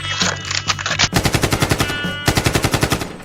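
Rapid automatic AK-47 fire in a video game, aimed at swimming fish: loud, close bursts of evenly spaced shots, a short burst followed by two longer strings of rapid rounds.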